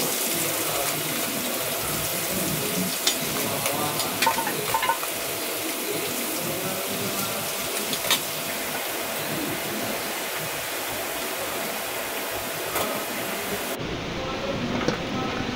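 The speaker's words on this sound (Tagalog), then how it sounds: "At kumukulo na nga po itong sinaing natin." A steady bubbling, hissing rumble of rice boiling in a pot, continuous and close, with occasional small pops.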